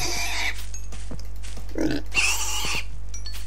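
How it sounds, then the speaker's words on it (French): Pigs in the video game Minecraft give several short grunting oinks, close and moderately loud, over a steady low game hum, with no talk. "Alors, je vais finir de tuer les cochons."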